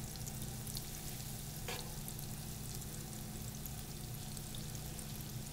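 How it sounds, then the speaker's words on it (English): Unsalted butter melting in a pan gives a steady, soft sizzle that holds even and close throughout, with no talking. "I'm taking a little bit of butter and I'm melting it. It's unsalted butter."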